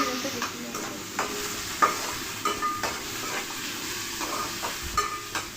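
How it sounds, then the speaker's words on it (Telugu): A tomato, an onion and green chilies fry in hot oil with a soft continuous sizzle, punctuated by repeated stirring clicks and scrapes of a spoon against the pan. "ఆయిల్ వేసుకొని ఒక టమాటా, ఒక ఉల్లిగడ్డ, కొన్ని పచ్చిమిరపకాయలు వేసి అయితే మంచిగా ఫ్రై చేసుకోవాలి"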